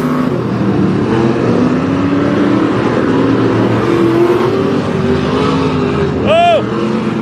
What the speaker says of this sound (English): That car is fast.